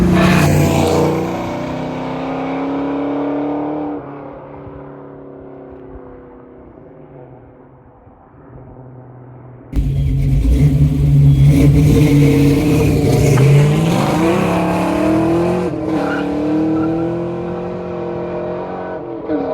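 A Fox Body Mustang fitted with FlowMaster Super 40 mufflers drives along, its exhaust droning and shifting in pitch, easing off then surging louder as the engine picks up, close and continuous.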